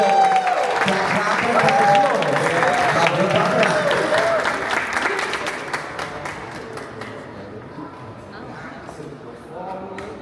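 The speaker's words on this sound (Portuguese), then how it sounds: "Aplauso!" An audience at a drag festival debate panel bursts into applause with cheers and whoops as a performer is introduced, loud and crowded at first and then thinning out, with voices talking through it.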